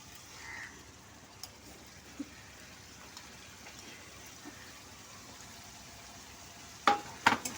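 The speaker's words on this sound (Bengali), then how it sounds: "এটা টমেটো বাটাটা দিয়ে আমি ভালো করে একটু ভেজে নিচ্ছি।" Ground tomato paste fries in oil in a pan for potol chicken dolma, giving a soft, steady sizzle with scattered stirring taps and a louder burst of scraping near the end.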